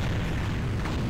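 Giga Missiles attack from the PS1 game Digimon World 1, a loud, dense rumbling explosion that fills the whole brief moment without any voice.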